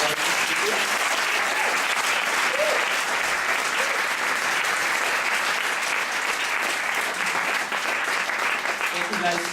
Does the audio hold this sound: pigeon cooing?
no